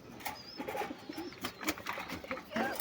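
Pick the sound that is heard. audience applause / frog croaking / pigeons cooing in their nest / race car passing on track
pigeons cooing in their nest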